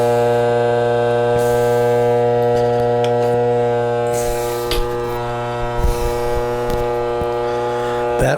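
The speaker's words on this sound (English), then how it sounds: "That, my friends, is the sound of a bad color wheel on the Optoma HD 26." A failing color wheel in an Optoma HD26 projector gives off a loud, steady mechanical whine and hum that holds through most of the stretch, with a few faint clicks and knocks near the end.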